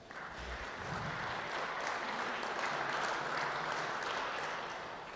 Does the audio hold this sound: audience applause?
yes